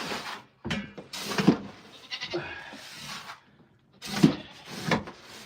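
Several goats bleat from just behind a closed barn door, loud repeated calls in bursts with short gaps, close by, with no talking.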